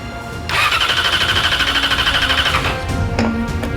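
A Yamaha R6 sport bike fitted with an SC Project exhaust cranks with a loud whirring starter squeal that runs for about two seconds, then drops off, followed by a brief lower tone as it tries to catch.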